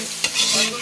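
Onion frying in hot butter gives a steady, close sizzle with a brief stir or scrape near the start, short and without speech.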